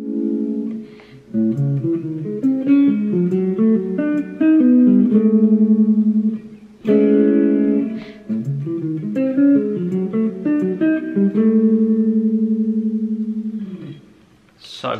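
A clean-toned guitar plays an outside-sounding triad lick of shifting chord shapes twice through, ending on a sustained note, solo and close.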